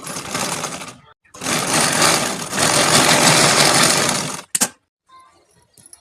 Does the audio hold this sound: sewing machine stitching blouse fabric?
yes